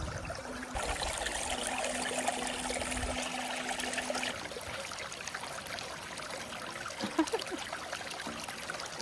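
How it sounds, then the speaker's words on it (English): Water flows through a gem-mining sluice at a ruby and sapphire mine in North Carolina, a continuous close trickling and splashing rush with a brief gurgling change early on, steady to the end. "But it's water. It's forever moving."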